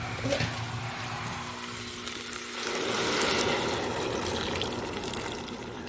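Water pours into a cooking pot for a rice and vegetable dish, a steady gushing splash that swells partway through and runs on without pause.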